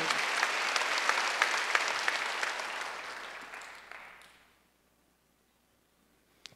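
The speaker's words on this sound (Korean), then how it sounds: "박수 한번 드세요." Church congregation clapping during a Wednesday worship service, a warm sustained round of applause that gradually thins and fades out after about four seconds, leaving near silence with a faint tap at the end.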